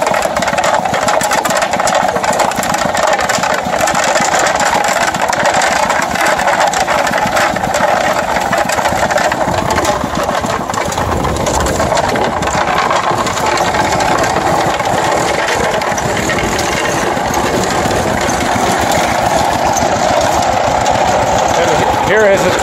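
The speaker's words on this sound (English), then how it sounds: "Just started up his ball mill." Engine-driven ball mill running while it crushes gold ore at a Kenyan mine, with a dense, continuous mechanical roar and clatter that stays loud and steady throughout, alongside occasional speech.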